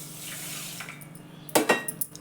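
Water is poured onto a bowl of sugar in a pot up close for syrup, a short splashing burst followed by a few light clinks against the metal.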